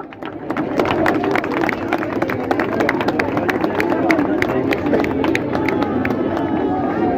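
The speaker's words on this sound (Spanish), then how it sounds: "Un fuerte aplauso de nuevo para ellos." Loud, dense applause from a crowd at a San Isidro chotis performance for a tenor and dancers. Sustained clapping is mixed with crowd babble throughout.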